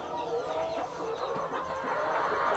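Many chickens on a large poultry farm keep up a steady, dense clucking and chirping that fills the space, close and continuous, with no one speaking.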